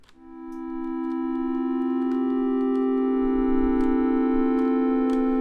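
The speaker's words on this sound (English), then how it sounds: "so it's like a slow whiny pad that takes a while to release" Slow synth pad built in Unreal Engine 5 MetaSounds with long attack and release, a whiny sustained chord swelling gently in and holding steady, alone with faint ticking clicks.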